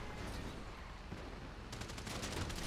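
Gunfire in a video game comes as a faint, continuous rattle of rapid shots, a steady distant fusillade with no pauses.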